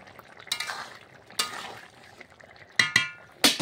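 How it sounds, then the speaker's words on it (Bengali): Fish curry with garam masala being stirred in a pan, a spoon scraping and clinking against the metal in a few short bursts over a soft sizzle, close by with no talking. "এবার আমি 1 চামচ গরম মশলা গুঁড়ো দিয়ে দেবো, দিয়ে একটু নেড়ে চেড়ে"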